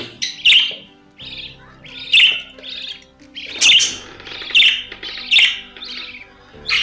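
A pet bird chirps near its cage indoors, giving a series of loud, sharp, close-up chirps and squawks in short bursts roughly every second, with quiet gaps between and no talking.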